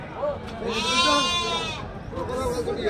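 Sheep and lambs bleat repeatedly at a busy village livestock market in Angallu, with people talking close by throughout.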